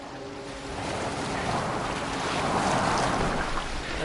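Boat moving across open water in Assassin's Creed Valhalla, a steady broadband wash of waves and wind rushing past the hull, building slightly in loudness with no voices.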